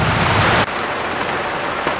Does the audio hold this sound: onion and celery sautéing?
no